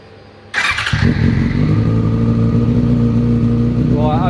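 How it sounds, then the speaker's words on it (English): A Yamaha FZ6 Fazer motorcycle engine starts up after a quiet moment and then idles loudly and steadily close by, with a brief rise in pitch near the end. "we'll start the bike"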